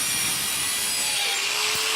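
A DualTools CS450 saw cuts through copper plumbing pipe, giving a steady, loud, broadband rasping whine that runs without a break for about two seconds, with no voices over it.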